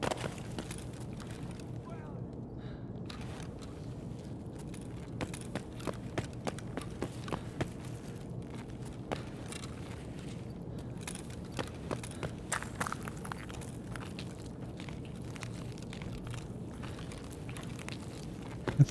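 Running footsteps in the shooter game Escape from Tarkov, a quick irregular patter of steps at moderate distance over a low rumbling game ambience, with someone talking now and then.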